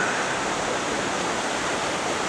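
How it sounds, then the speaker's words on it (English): A waterfall in Potholes Coulee pours with a steady, dense roar of rushing water, loud and unbroken throughout with no other sounds. "And this waterfall right here is really, really pretty."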